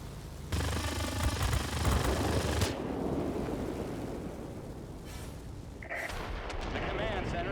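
Bombs detonating in the aerial combat game World of Warplanes, a loud sustained rumbling blast with crackling gunfire that fades into a continuous roar of engines and battle noise.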